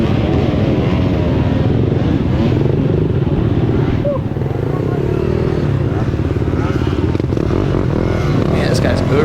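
Pit bike engines race close by in a pit bike race, one running hot, their buzzing drone steady and loud throughout as a voice talks over the noise.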